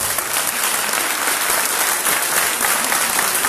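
Dense, sustained applause from an audience at a conference on police violence and weapons of war, steady and loud throughout with no speech on top.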